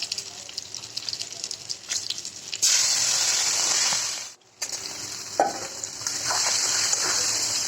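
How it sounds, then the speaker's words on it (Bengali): Radhuni seeds, dried red chilies and chopped garlic hit hot oil for tempering: a loud, close sizzle that flares suddenly, briefly drops out, then returns steady with light stirring scrapes. "রাঁধুনি সম্বারা দেবো শুকনো লঙ্কা রসুন কেটে করে দিয়েছি"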